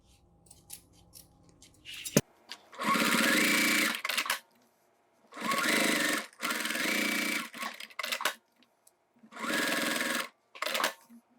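A sewing machine quilts a toiletry bag panel backed with rubber foam, running in four or five loud close bursts of one to two seconds separated by silent pauses and small clicks.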